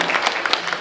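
Audience applause at a general assembly meeting, a brief burst of many hands clapping together, dense and continuous at moderate loudness, lasting under a second.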